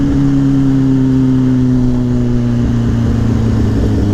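Kawasaki Ninja H2 supercharged motorcycle engine running loud and close, a strong droning tone that sinks gradually in pitch as the revs ease off.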